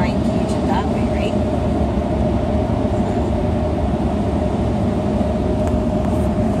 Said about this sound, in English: And that's the car wash.